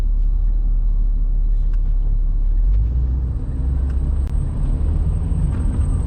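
A 1967 Rolls Royce with a 6.2 engine pulls away in a steady, loud low rumble heard from inside the car, its drone dipping briefly partway through as it shifts gears.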